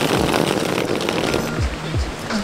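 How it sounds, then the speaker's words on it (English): Continuous river water roars nearby in a broad steady wash, with a low engine-like hum drifting underneath, on a riverbed in Glencoe, Scotland. "you can hear the river in the background"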